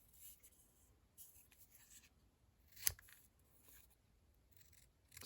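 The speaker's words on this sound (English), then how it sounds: "So we're just going to cut diagonally up to the center" Scissors snip diagonally through paper card while a gingerbread-themed money wallet is crafted; a few faint, crisp cuts come in separate short bursts, close up in a quiet room with no talk.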